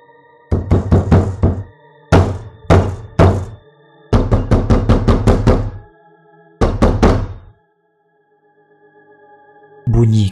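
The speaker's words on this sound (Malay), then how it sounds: "Bunyi ketukan pintu dari dalam bilik sembahyang tu" Loud, close knocking on the door of a prayer room inside a bank comes in several rapid clusters of hollow raps, separated by short pauses and a longer silence before a final burst.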